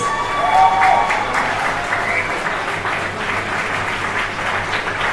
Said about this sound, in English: another round of applause for our finalists